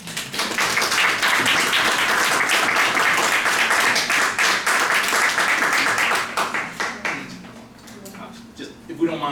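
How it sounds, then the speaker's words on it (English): Applause for Justice Albie Sachs at Howard University School of Law, a loud, dense burst of clapping that thins into scattered claps after about six seconds, with voices heard as it dies away. "one more round of applause for Justice."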